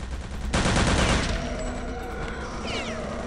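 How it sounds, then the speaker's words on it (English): Loud burst of video game gunfire in Return to Castle Wolfenstein, a dense rattle of automatic shots for about a second that settles into ongoing rapid battle noise and distant shots. "He just turned immediately around and started shooting."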